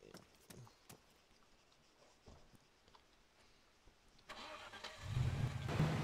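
Car engine starts in the military game Arma 3, cranking and catching into a loud, low rumbling idle in the final seconds after quieter clicks and faint background noise.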